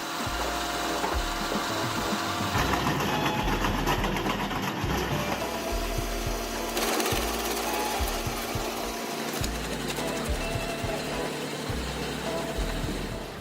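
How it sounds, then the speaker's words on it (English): A wood chipper running, a loud steady mechanical drone with irregular low thumps and clattering bursts as material passes through, no voices. "this wood chipper still works strong and durable for a long time"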